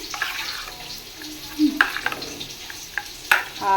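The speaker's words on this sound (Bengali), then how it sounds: "এখানে কিছুটা দিয়েছি কড়াইতে ভাজা হোক" Paneer fries in a wok with a moderate sizzling hiss, while a spatula stirs and clinks against the metal in a few sharp scrapes and taps.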